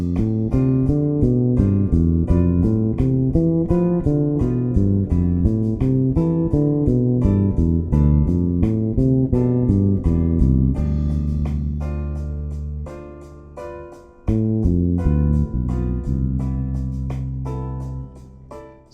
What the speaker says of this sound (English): So that's the sound of the seventh chords, ascending and descending.